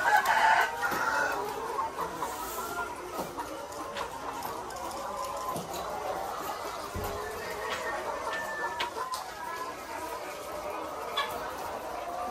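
Caged layer hens cluck and chatter continuously in a poultry house, many birds overlapping in a steady flock murmur, with an occasional rooster-like crow early on and scattered sharper squawks.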